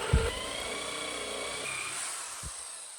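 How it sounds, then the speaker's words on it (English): A power drill bores a hole in wood for an F-clamp using a dull bit, giving a steady whining drone that holds throughout with a slight pitch shift midway. "Here I'm drilling that hole for F-clamp."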